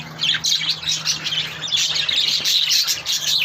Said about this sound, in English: And there's birds. Everywhere's birds.